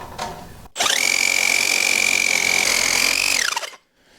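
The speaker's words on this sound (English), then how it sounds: "we switched to the Sawzall because it was so much quieter and quicker" A Sawzall reciprocating saw cutting through a bike frame, loud and close, a steady high-pitched buzzing whine that starts abruptly, holds for about three seconds, then winds down.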